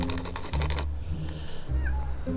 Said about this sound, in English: So somebody's taken away part of this wall, but the kitten's still in there.